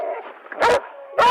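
A police dog barks twice in loud, close bursts during a tense armed police encounter, with a muffled voice and background noise between the barks.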